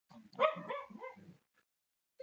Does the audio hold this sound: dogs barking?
yes